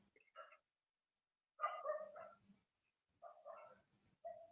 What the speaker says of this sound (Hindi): आपके कुत्तों की आवाज आ रही है पीछे से